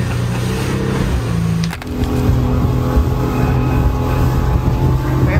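A speedboat runs across open sea to Maafushi in the Maldives, a loud, continuous engine drone with rushing water and wind, briefly dipping before surging again.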